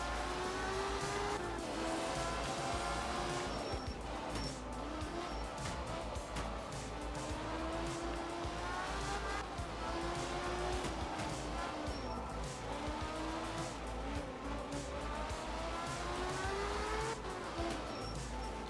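A truck drives steadily in a video game, its engine droning continuously for the whole stretch with shifting pitch and occasional faint tire noise, loud and close.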